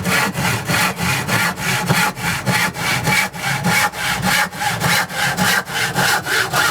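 Hand saw cutting through scrap wood, a steady rhythm of roughly three rasping strokes per second, close and fairly loud, with no voices.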